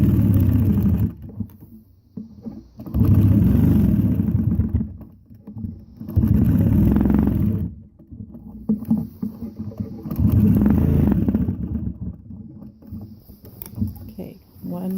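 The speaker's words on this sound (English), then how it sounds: "Okay, one more stitch in the ditch," A sewing machine stitching in the ditch on a quilt runs in three or four sustained bursts, loud and close, with short pauses between runs.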